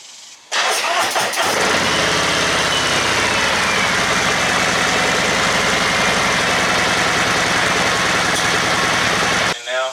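A 2019 Harley-Davidson Road Glide Special with Mutazu 4.5-inch slip-on exhausts cranks and fires up, then settles into a loud, raspy idle with a throaty exhaust note that runs steadily until it cuts off.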